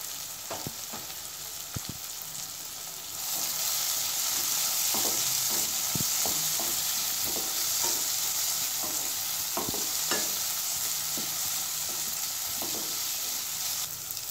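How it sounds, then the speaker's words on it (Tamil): Tomatoes frying in a pan with ginger and garlic, a steady sizzle that grows louder after a few seconds, with repeated stirring scrapes and clinks throughout; no talking. "இப்போ தக்காளி நல்லா வதங்கிடுச்சு. இப்போ அடுத்து இஞ்சி பூண்டை சேர்த்துக்கலாம்."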